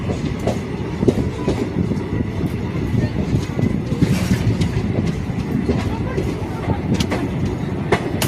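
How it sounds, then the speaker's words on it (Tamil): A train rumbles past close by on the Bhor Ghats mountain railway, a steady loud roar of wheels on rails with faint rhythmic clatter throughout. "ஏதோ ட்ரெயின் வந்துட்டு இருக்குது."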